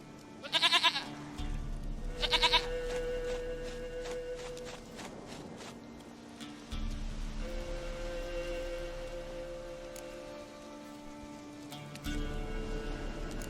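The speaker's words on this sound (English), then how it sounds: "Goat of mine, dearest, sweetest goat." Goat bleats in The Witcher 3: Wild Hunt, two close wavering bleats early on, then footsteps and ambient game music with soft background sounds.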